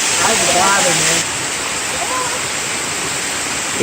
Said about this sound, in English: This is Middle Creek Falls on the South Prong of Middle Creek. About 50, 55 feet high.